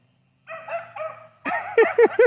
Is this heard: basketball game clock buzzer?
no